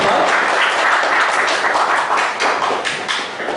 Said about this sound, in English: Please thank him for a round of applause.